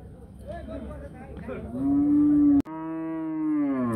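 A cow at a village cattle market in Barura, Comilla lets out a loud, close, drawn-out moo, rising into a second sustained bellow after a brief break.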